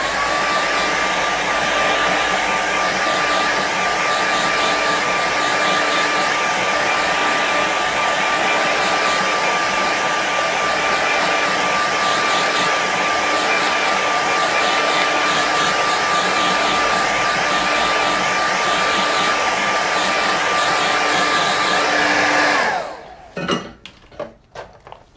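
A hair dryer blows steadily and loudly on a watercolour landscape painting of lakes and mountains for about 22 seconds, then switches off abruptly, leaving a few quiet handling clicks.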